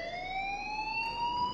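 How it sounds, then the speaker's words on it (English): An alarm sounding in the Life is Strange video game, a steady rising electronic siren-like tone held throughout at moderate loudness. "please turn off that alarm"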